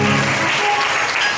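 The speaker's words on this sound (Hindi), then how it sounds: "जोरदार ताली बजाएंगे" A congregation at a Hindi-language church healing service breaks into loud, dense applause, a thick roar of many hands clapping at once that fills the moment with no voices on top.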